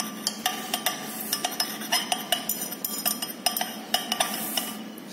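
Glass lab vessel being stirred while a solution is slowly added during an m-nitroaniline preparation, giving repeated close clinks and taps in an irregular rhythm over a steady background hiss, with no talking.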